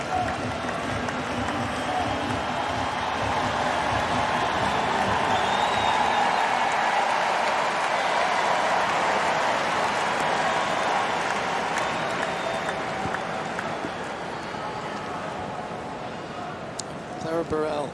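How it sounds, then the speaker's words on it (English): Tennis crowd at a US Open first-round women's match producing a steady, dense wash of applause and crowd noise throughout, with commentators talking over it. "We'll be getting some energy from the crowd"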